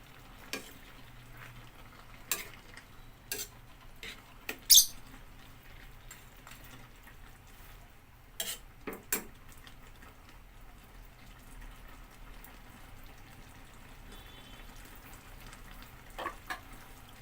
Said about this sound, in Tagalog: Haluin lang natin ng bahagya.